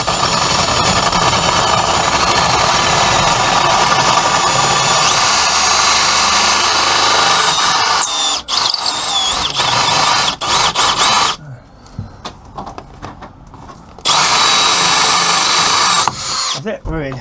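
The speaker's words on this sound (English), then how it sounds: "A normal drill bit and try and widen it with the drill bit." A power drill widens a hole inside the back of a boat cupboard while a VHF radio is being fitted during a boat restoration. The loud, sustained whir runs close up, with a short break midway and a longer pause near the end.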